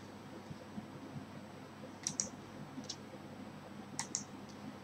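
A computer mouse clicks in quick pairs, sharp and close, repeated a few times over a quiet room hum.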